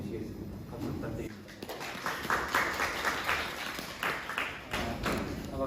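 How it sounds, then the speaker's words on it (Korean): An audience claps at a university aviation college admissions briefing, a broad sustained patter of many hands building after the first second and continuing steadily to the end. "박수 부탁드립니다."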